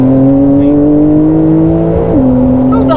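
A 2020 Porsche 911 Carrera S (992) with its 3.0 engine roars steadily up close, a sustained loud drone that drops pitch slightly near the end.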